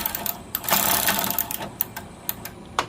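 Power tool run in short bursts while removing 7mm bolts from a car's grill and bumper area, rapid mechanical whirring and ratcheting with clicks between pulses, close and fairly loud.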